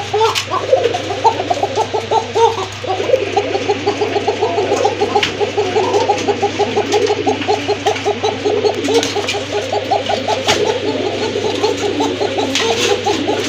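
Fancy pigeons, including Koka breed birds kept for their voices, call repeatedly in a loud, busy chorus of rhythmic cooing and bubbling notes over a constant low hum, with occasional sharp knocks.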